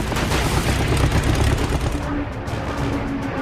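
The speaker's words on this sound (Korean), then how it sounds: "계속 공격 중이던 리만은 케이트 폭격기를 사격하고 엔진의 연기를 확인했지만" A World War II fighter plane's machine guns fire at a Kate bomber, a dense, loud, rattling burst of rapid shots over roaring noise, easing slightly toward the end.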